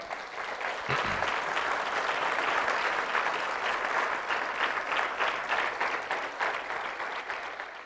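A church congregation applauds in steady, sustained clapping that fills the room throughout, with a crowd murmur beneath it.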